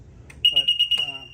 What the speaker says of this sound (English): So alarm's going off.